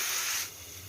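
A little water added to cooking masala in a hot pan gives a sharp, short hiss of steam that quickly drops to a softer sizzle.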